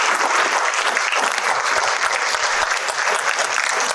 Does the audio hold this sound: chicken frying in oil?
no